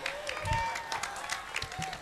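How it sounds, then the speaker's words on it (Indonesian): An audience applauds at a Gus Bahru Zamzami religious gathering, a short burst of clapping with a voice calling out over it and a low thump near the start. "Oke, tepuk tangan."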